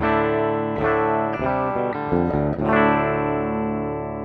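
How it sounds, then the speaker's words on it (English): A clean electric guitar recorded as a direct-input signal with no effects plays a short phrase of several distinct notes, then lets the last one ring out and fade. No one speaks. "guitar with no effects coming in."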